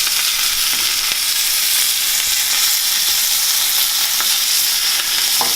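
Steaks fry loudly in a hot pan with melting butter, a dense, constant hiss and crackle filling the sound, with a few faint pops and clicks, close up and no one talking.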